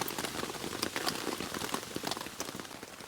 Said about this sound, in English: Just the sound of the rain on the tent